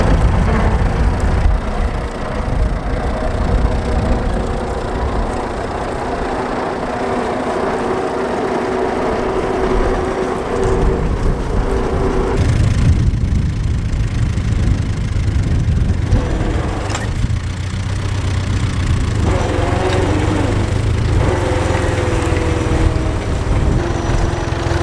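Fordson tractors plough at the Rearsby ploughing match, a steady mid-pitched engine chugging and idling nearby that runs continuously, with the note shifting partway through as one machine changes pace.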